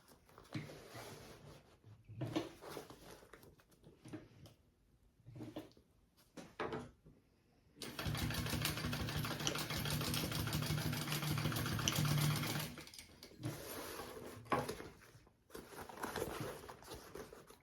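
A sewing machine runs in short bursts and then one steady stretch of several seconds, basting a seam on a fabric crossbody bag, with handling clatter between passes.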